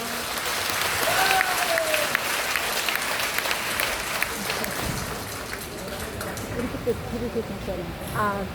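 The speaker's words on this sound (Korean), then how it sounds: "박수 한번 보내주세요" An audience at a lecture by a professor of a Korean school applauds, a dense steady round of clapping that fades slightly, with voices and a few louder bursts near the end.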